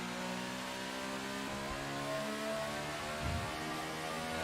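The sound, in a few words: F1 car engine, video game F1 2018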